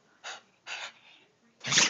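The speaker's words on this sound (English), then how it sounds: "You have to sneeze?" A dog sneezes three times in quick succession, two short snorting bursts followed by a louder, harsher third sneeze, close by with no talking.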